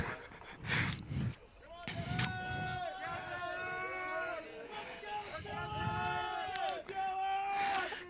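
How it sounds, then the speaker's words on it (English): A crowd at the gazebo cheers a rower from Mendota during a USRowing Summer Nationals race, with loud bursts of shouting and whooping and sustained yells, mixed with babble and a voice talking over it. "There you can hear the other Mendota boys cheering him on"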